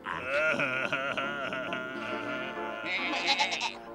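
Cartoon goats bleat in a wavering, drawn-out series of loud, close calls, rising and trembling over a few seconds with no talk.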